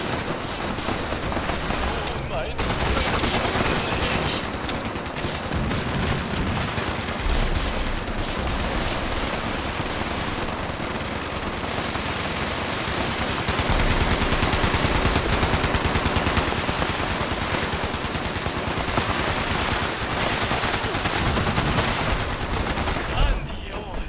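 Gunfire in the video game Fallout 76 in a multiplayer fight, a loud, continuous stream of rapid automatic shots and blasts that lasts throughout and masks any voices.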